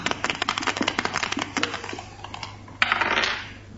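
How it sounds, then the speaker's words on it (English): A single die tossed onto a hard surface in a group telepathy experiment, clattering in a quick run of sharp taps and clicks that rattle to a stop, followed by a brief rustling noise, near and with no voices. "I'm going to throw the die."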